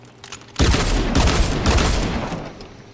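Double pistols in the video game Genshin Impact fire a dense, rapid burst of shots that lasts about a second and a half, then fades out.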